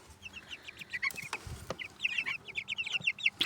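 High, bright peeping chirps from several two-week-old chicks in a cramped enclosure repeat in quick bursts, close by, with a few soft clucks and rustling underneath.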